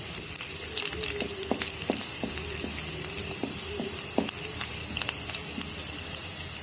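Vegetables fry in a pan for egg pulao, giving a continuous quiet sizzle broken by occasional light clinks and stirring sounds.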